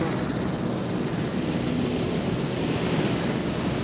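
A ranger helicopter in Jurassic World Evolution drones with a steady, dense rotor and engine roar that holds evenly throughout at close range.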